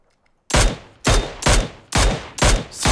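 Gunfire in the game PUBG Mobile, six loud booming shots at an even half-second rhythm after a brief silence, each with a short decaying tail.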